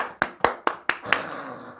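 Five sharp, evenly spaced claps close by, a single person's hands in a quick regular rhythm during a Korean church sermon, followed by a short fading tail.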